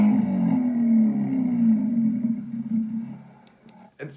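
A loud, deep car exhaust roar through an open electric exhaust cutout rumbles steadily, then fades and quiets as the cutout closes, ending with a few sharp clicks and a short burst.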